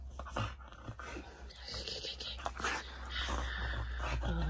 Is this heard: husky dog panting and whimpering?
yes